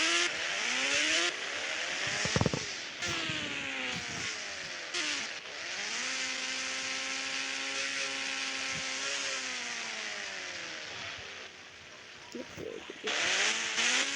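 Motorbike engine sounds from an Indian bike driving video game, with repeated revving that rises and falls in pitch as the bike accelerates and slows, broken by brief clunks and impacts, at moderate volume with faint talk at times.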